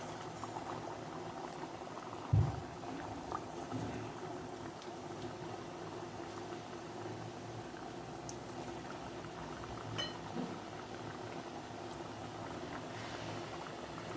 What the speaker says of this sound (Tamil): இதை எடுத்து நம்ம எண்ணெயில் போட்டு பொரித்து எடுத்துக்கலாம்.